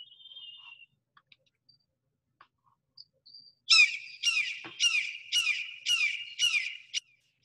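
Red-shouldered hawk calls ring out in a clear series of about six sharp, evenly spaced screams. They follow a few faint scattered chirps in an otherwise quiet setting.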